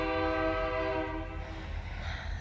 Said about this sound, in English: I'm sure y'all can hear it. The train.